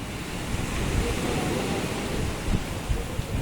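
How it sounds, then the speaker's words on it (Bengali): Sea waves roll in and break during heavy rain, a broad, roaring wash with a few surging crashes near the end, loud and continuous, with no talking. "দেখুন কিভাবে ঢেউ আসতেছে"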